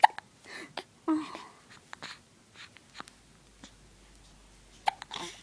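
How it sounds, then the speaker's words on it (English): Baby hiccuping, short sharp hiccups repeated at uneven intervals, close to the microphone, with quiet breathy pauses in between. "Who'd have thought the baby was such cute, good hiccup?"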